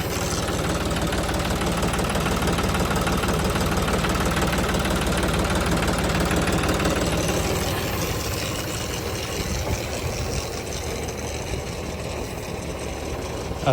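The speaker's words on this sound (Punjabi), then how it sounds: "ਕੰਪਰੈਸ਼ਰ ਟਰੈਕਟਰ ਐਨ ਸਲੋ ਰੇਸ ਤੇ ਚੱਲੀ ਜਾਂਦਾ" A John Deere tractor engine idles at low revs driving a spray pump, a steady close knocking chug with vibration that eases slightly toward the end; no talking.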